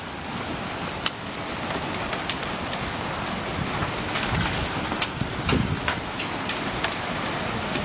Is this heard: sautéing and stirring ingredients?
no